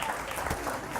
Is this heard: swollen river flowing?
no